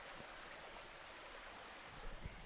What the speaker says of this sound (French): je partage un peu le bruit du ruisseau